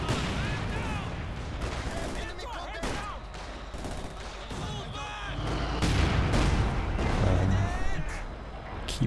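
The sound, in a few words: artillery barrage in video game Company of Heroes 2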